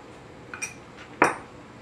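A few light ceramic clinks from ramekins being buttered and floured for gluten-free lava cakes, two faint taps followed by one sharper, louder clink, set against a quiet room.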